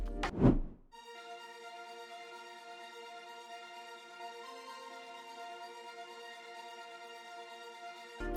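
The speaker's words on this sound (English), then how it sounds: "I have also used another ARP with the same pattern but different preset" A second synth arpeggio in a progressive house track, the same note pattern played through a different preset in FL Studio: a steady, sustained stream of bright tonal notes holding evenly for several seconds after a short thump, with no voice.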